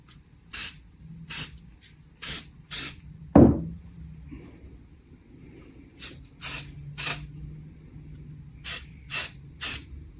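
Hairspray is sprayed in short bursts onto model railway vegetation on an N gauge layout. There are about ten quick hissing sprays in two groups with a pause between them, plus one thump partway through.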